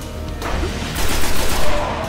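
Sustained automatic gunfire in the Destiny shooter game during the mission The Dark Beyond, a dense, loud burst of rapid shots that swells toward the end, with no talk.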